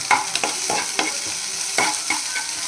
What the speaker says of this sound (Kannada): ಈರುಳ್ಳಿ ಚೆನ್ನಾಗಿ ಫ್ರೈ ಆಗಬೇಕು ತರಕಾರಿ ಎಲ್ಲ ಹಾಕ್ಕೊಳ್ಳಿ ಹಾಕ್ಬಿಟ್ಟು ಕ್ಲೀನಾಗಿ ಒಂದು ಫ್ರೈ ಮಾಡ್ಕೊಳ್ಳಿ